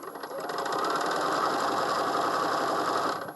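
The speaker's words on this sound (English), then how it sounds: "Watch your start, watch your end, and again, machine sew across." Sewing machine stitching quilt blocks for a disappearing nine-patch charity quilt, a fast, even mechanical whir running steadily for a few seconds close by before stopping.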